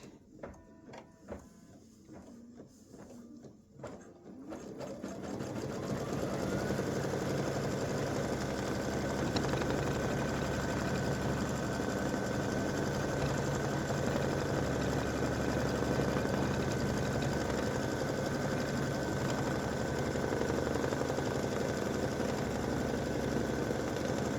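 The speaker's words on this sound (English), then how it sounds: "it's going to stitch the tack down for the hat" An embroidery machine stitches a tack-down line for an elf hat applique, starting with a few separate clicks and jolts before settling into a dense, fast, even mechanical whir that holds steadily and loudly at close range.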